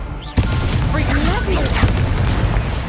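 A burst of fire magic from the Incendio spell in Hogwarts Legacy, a sudden loud whoosh and crackle that continues steadily with smaller bursts, with a voice speaking over it.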